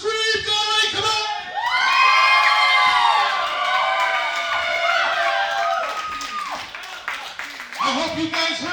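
A crowd at a wrestling event screams and cheers loudly and continuously, with whoops and scattered clapping rising into a sustained roar that slowly tapers off.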